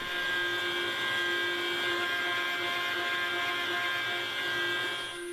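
A CNC milling machine cutting a part bolted to a hole grid, giving a loud, steady, high-pitched tonal whine with a constant motor drone that holds throughout before easing slightly at the end.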